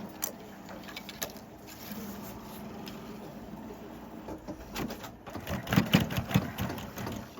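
A sewing machine stitches a thermoplastic laminate cummerbund, starting with soft ticks and a faint motor hum, then running into a louder, rapid stitching burst near the end.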